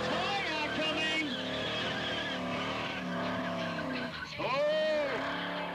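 A 351-powered Ford XD car doing a burnout at a club event, its engine roaring steadily with a screaming tyre squeal sweeping up and down, loud and continuous over crowd noise and voices.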